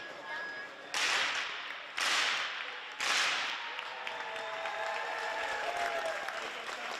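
A hockey crowd in the arena at a St. Andrew's College versus Northwood School semi-final claps and cheers for the team's salute to the fans. Loud bursts of applause come in three waves, then settle into a steady wash of clapping and crowd noise.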